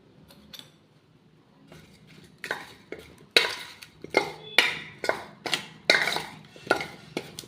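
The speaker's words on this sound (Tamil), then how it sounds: "இப்போ இதை நம்ம நல்லா மிக்ஸ் பண்ணிக்கலாம்" Plantain pieces being tossed by hand with spices and salt in a bowl, giving a series of soft, close clatters and scrapes that grow louder and more regular toward the end.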